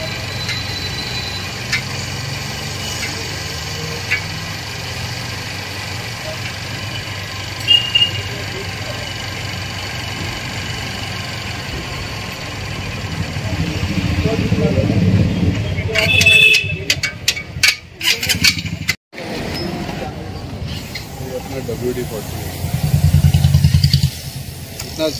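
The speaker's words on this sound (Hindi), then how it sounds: "कार्बोरेटर का सेटिंग हो रहा है।" A motorcycle engine runs steadily during carburetor tuning in a workshop, a close buzzing idle that rises briefly as it revs, with clanks, cut-outs and people talking nearby.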